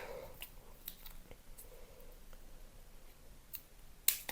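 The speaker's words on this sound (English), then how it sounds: "I'll just cut it off." Scissors cut a small piece of craft foam while a card is being made, giving a few faint, sparse snips and clicks close by, with one sharper cut near the end.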